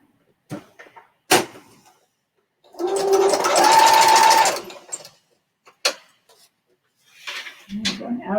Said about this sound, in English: So we're going to actually just turn because we run into the other seam.